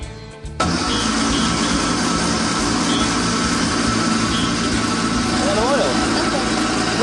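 Engine of a rescued wreck cranked over on the starter, a steady loud mechanical drone that kicks in abruptly after a brief quieter moment and runs on unbroken, close by.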